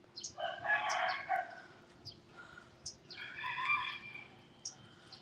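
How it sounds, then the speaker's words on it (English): A rooster crows twice nearby at a 14th-century temple site, Wat Chedi Luang, each a loud drawn-out call, with softer bird and background noises between. "He's a noisy rooster, isn't he?"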